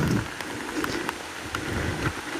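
Rain falling at a riverside campsite, a constant fine patter with scattered sharper drips landing on nearby surfaces, close and moderately loud, with no talking over it.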